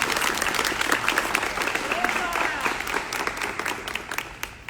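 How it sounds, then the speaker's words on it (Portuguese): Audience applause at a conservative political event in Gama, Brazil, steady dense clapping from a crowd filling the room, sustained and fairly loud throughout before tapering slightly near the end. "eu queria que nós todos aplaudíssemos o Rafael aqui"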